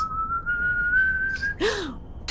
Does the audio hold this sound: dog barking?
no